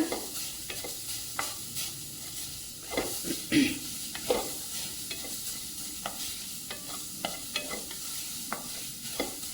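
Carrots stir-fried in a pan for a palak veg khoa samosa filling, giving a steady close sizzle with repeated scraping and stirring clicks throughout, no voices.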